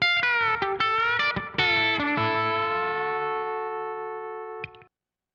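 Twangy country electric guitar stabs with phaser and delay, several sharp bright chords in quick succession, then a long ringing chord that decays and cuts off, played alone and close.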